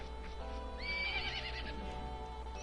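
A horse whinnies once in the Zelda game Majora's Mask: a shrill, wavering neigh over a quiet game soundtrack, moderately loud with no talk.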